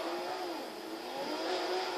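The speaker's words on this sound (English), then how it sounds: "And Objective 5 is in the blue Chevrolet Corvette C5 with the Sawyer, and I'm in the Toyota Supra right here." Toyota Supra engine in the racing game Forza 4, a sustained high revving drone with a steady tonal whine, loud and continuous for the whole moment, no talk.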